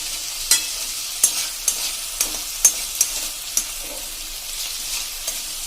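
Potatoes and chilli frying on a low flame for batata poha, stirred with a series of crisp spoon taps and scrapes over a light hiss, close up and without speech.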